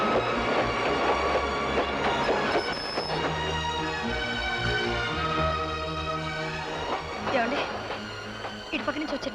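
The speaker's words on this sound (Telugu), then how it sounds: "బండి కదులుతోంది." A train rolls steadily along the rails at a railway station, its continuous rumble and rattle running the whole way beneath voices and a tonal background.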